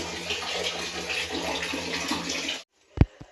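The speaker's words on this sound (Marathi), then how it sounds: "पाणी भरते हे हिटरमध्ये टाकायला" Water gushes steadily from a tap into a container for an electric water heater, a close, continuous splashing rush that cuts off abruptly, followed by a couple of sharp knocks.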